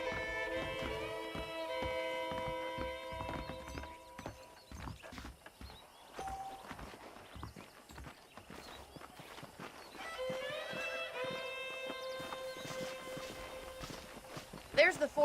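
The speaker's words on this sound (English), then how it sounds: "The horses are saddled up over here." Horses clip-clop at a walk in the Red Dead Redemption western video game, soft repeated hoof falls under music and faint talk.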